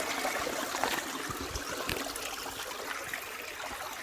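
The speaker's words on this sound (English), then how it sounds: "y'all can hear the water going through the rocks there." A small backyard waterfall sends water trickling and splashing over rocks in a steady, continuous wash, with a few brief louder splashes along the way and no talking.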